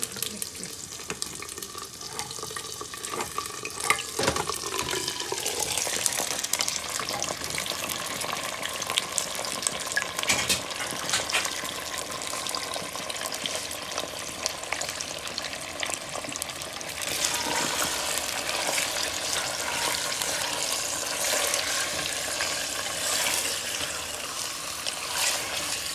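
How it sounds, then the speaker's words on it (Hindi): Goat meat tipped into a hot pot for a Moroccan-style goat and vegetable dish, setting off a loud, steady sizzle and frying hiss with occasional stirring and clatter, lasting throughout without talk. "अब इसमें हम गोश्त डालेंगे।"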